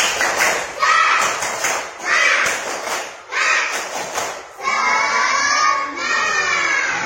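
Children perform a spirit clap routine together, beating out loud rhythmic bursts of claps and thumps mixed with shouting young voices, then breaking into a sustained cheer.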